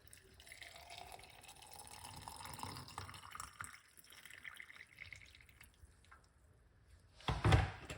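Hot water trickles and pours steadily into a container holding okra and garlic, at low volume, ending with a brief louder splash.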